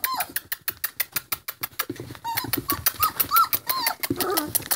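Great Dane puppies make soft whimpers and high squeaks over a run of rapid pattering and scrabbling, close and moderately loud, with no voices.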